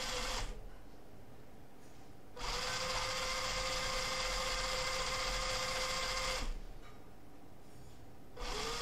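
A small DC motor driven through an L298N driver board runs at reduced PWM speed, giving a steady high whirring whine. It cuts off briefly, restarts for about four seconds, then stops again before starting once more.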